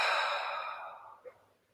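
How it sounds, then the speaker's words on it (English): A single long exhale through the lips, a soft breathy rush that is strongest at the start and fades over about a second, then a small catch of breath at the end, with no talking. "we move into breathing through the nose and breathing out through the lips"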